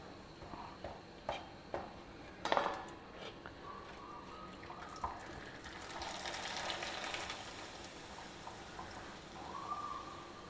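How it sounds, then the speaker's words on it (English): Soft, quiet sizzling of ragi appalam frying in oil, with occasional crackles and faint clinks of a utensil. "I am just frying some ragi appalam"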